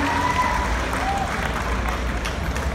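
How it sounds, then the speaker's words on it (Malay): Steady applause from a large crowd at a Sugandoi Kaamatan singing contest in Sabah, dense and sustained clapping filling the whole stretch with no pause. "Kita berikan tepukan yang gemuruh."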